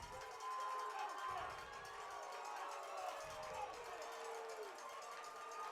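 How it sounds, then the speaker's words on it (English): A crowd at a high school football game between Ellender Memorial and South Lafourche fills the stands with a steady, fairly faint roar of shouting and cheering from a distance, continuing throughout. "The crowd making noise."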